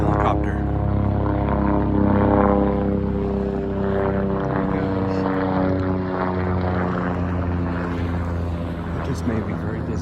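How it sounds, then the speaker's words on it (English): A low-flying helicopter drones steadily overhead above a riverside foreshore, a loud sustained engine hum with a rhythmic rotor pulse that holds strong and only slowly fades across the stretch. "what I'm looking for, a low-flying helicopter."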